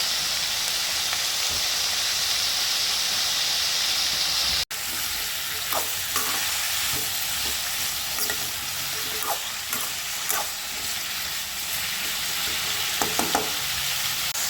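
Vegetables for sambar rice sauté in hot oil in a pan, giving a loud, continuous close sizzle and hiss with occasional stirring scrapes and clinks, and no talking.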